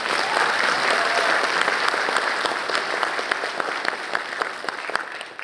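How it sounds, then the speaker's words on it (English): Audience at a summit opening session giving themselves a round of applause: loud, dense clapping from a large crowd, steady throughout with sharper individual claps standing out, no talking. "Let's give yourselves a round of applause."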